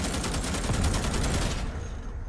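Dense, continuous gunfire against bugs in the video game Starship Troopers: Extermination, a loud sustained barrage of rapid shots that cuts off near the end and leaves a quieter rumble.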